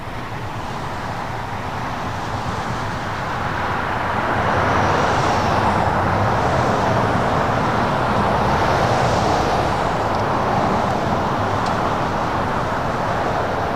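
KLM airliner taxiing toward runway 24 left at LAX, a broad distant engine rumble that swells after a few seconds and then holds steady, with no talk over it.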